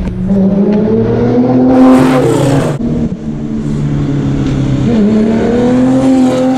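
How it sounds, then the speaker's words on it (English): Loud RWB Porsche car engines rumble and rev close by, the pitch rising and shifting as the cars pull away, with a brief roaring surge partway through. "The cars are just leaving now."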